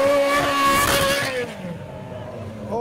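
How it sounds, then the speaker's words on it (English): A Ferrari 355 revs its engine at the Le Mans event, a loud rising howl that peaks and then fades away, with a crowd's voices mixed in. "Oh, they're revving the 355."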